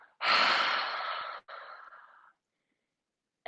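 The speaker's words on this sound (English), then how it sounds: "Take a big open mouth, ha breath out" A long open-mouthed exhale on a "ha" during a yoga breathing exercise, loud and breathy, tapering off after about two seconds.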